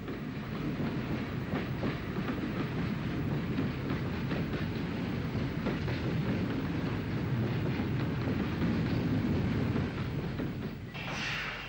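A steam locomotive, a GNR S Class engine, shunting a morning goods train at Lisburn in Ulster, giving a steady, loud rolling rumble with rhythmic wagon clatter that fades slightly at the end.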